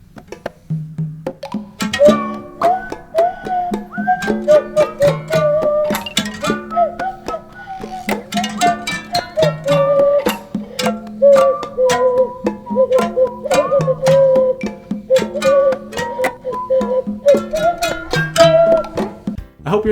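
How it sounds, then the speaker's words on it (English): A full goblin-themed song plays on: MIDI percussion and conga hits drive a busy rhythm under a reedy tin harp melody and plucked bass, with scattered goblin sound effects mixed in throughout. "I added some MIDI percussion and some sound effects from the Goblins,"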